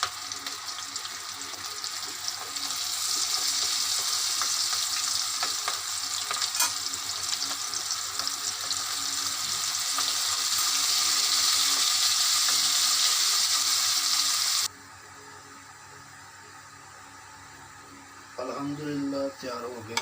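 Onion rings frying in hot oil, a loud, dense, steady sizzle up close for most of the clip, then a sudden drop to quieter background with brief clatter near the end.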